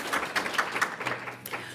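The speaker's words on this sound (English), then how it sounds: "Don't be afraid to clap." Scattered audience applause at a school board meeting, fairly quiet and brief, with uneven claps spread across the room and no one talking over it.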